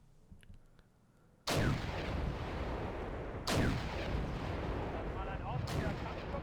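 Tanks fire in the Wargame video game, with three heavy booming cannon shots spaced a couple of seconds apart, each followed by a rolling rumble that fills the gaps.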